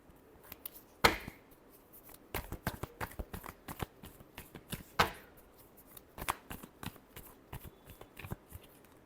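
Tarot cards being shuffled by hand, a series of sharp riffling flicks and soft slaps in uneven bursts, close and fairly quiet, with no talking.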